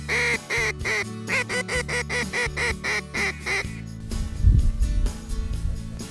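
A rapid, evenly spaced run of about a dozen loud, nasal quacks, like a duck call blown during a river duck hunt, is followed by rustling, gusty outdoor noise with fainter quacks behind it.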